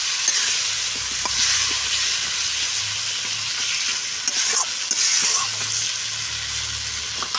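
Spices frying in oil in a pan for a Bengali snakehead fish curry, a steady close crackling sizzle that runs throughout, with a few clinks of stirring and a low hum beneath.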